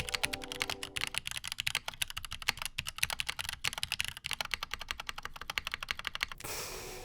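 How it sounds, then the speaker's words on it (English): Rapid, steady typing on a mechanical keyboard with lubed Drop Panda X tactile switches, close and crisp with a bright clacky tone, keys pattering unevenly for several seconds. "It came with lubed Drop Panda X tactile switches soldered in, and it sounded like this."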